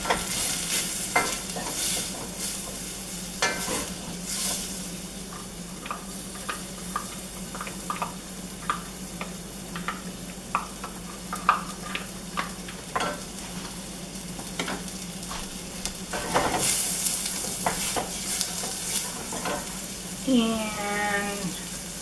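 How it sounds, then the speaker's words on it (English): Chopped onion and garlic sautéing in a pan, a continuous sizzle with repeated spoon stirs and scrapes, plus a brief watery splash near the end. "cook, stirring until softened, about 3 to 4 minutes"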